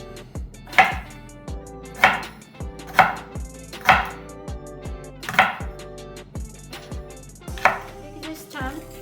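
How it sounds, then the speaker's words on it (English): A knife chops ginger into pieces on a cutting board while preparing fish: about eight crisp, evenly spaced thwacks in a steady rhythm, with near-silence between strokes. "let's cut more ginger pieces for the fish"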